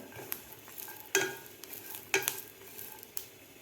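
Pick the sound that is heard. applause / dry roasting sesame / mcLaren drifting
dry roasting sesame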